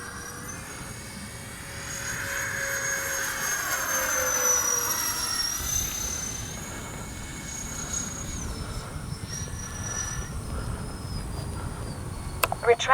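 An X-Fly J-65 RC model jet flying, its turbine whining in a sustained high-pitched tone that rises and shifts pitch as it passes, heard moderately close over outdoor background noise.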